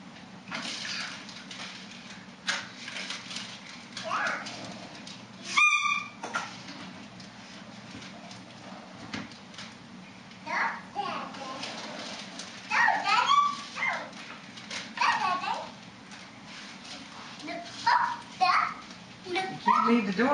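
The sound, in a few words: dogs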